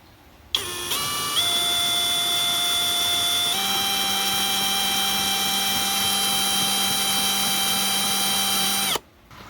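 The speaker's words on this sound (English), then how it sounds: "So I'm gonna drill a couple holes right here so I can screw the other side" A power drill bores holes into a scooter body near the gas tank, a steady loud whine that starts abruptly, shifts pitch partway through, and cuts off near the end, with no talking.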